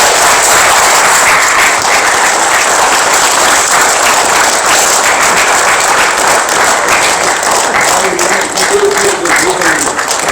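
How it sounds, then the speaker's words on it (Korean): An audience applauds at an award ceremony, the Unam Patriot Award, with dense, loud, continuous clapping from a large crowd that lasts about ten seconds. "다시 한번 뜨거운 박수 부탁드립니다"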